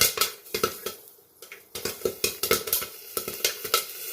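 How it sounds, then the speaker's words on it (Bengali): Popcorn kernels pop in a hot pan at home, sharp irregular cracks close by, coming in quick clusters over a low sizzle with brief quieter gaps. "পটপট করে ফুটছে"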